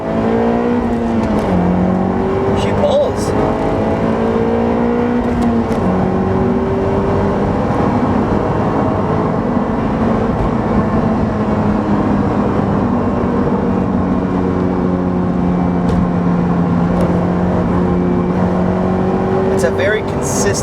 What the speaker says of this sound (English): let me do a first gear pull. Do a first gear pull here. Roll through the gears a little bit.